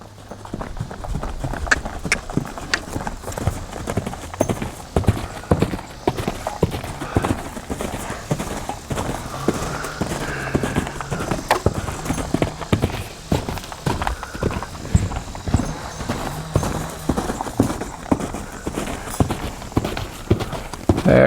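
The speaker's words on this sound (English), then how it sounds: "There, she's starting to level out at the lope." Rhythmic three-beat hoofbeats of a ridden horse loping on soft ground, loud and close, repeating steadily for the whole stretch with occasional snorts.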